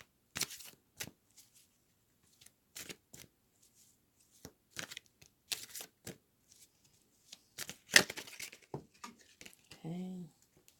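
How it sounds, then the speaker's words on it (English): Tarot cards being shuffled by hand in a series of short, crisp riffling bursts separated by pauses, close and fairly quiet, with a brief low tone near the end. "so let's pull another card"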